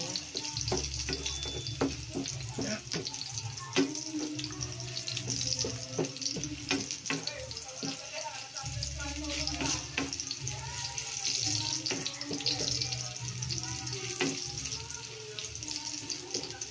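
Garlic sizzles and crackles steadily in a hot pan while being fried for pork adobo, with occasional stirring clinks and a faint splash of running water in the background.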